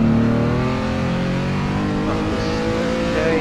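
Renault R.S. 0.1 race car engine in the Assetto Corsa racing game at the Nürburgring, a loud continuous high-pitched engine drone holding steady revs with rising and falling harmonics, no speech.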